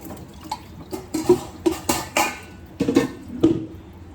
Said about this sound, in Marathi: आता मी भांडी घासून घेते.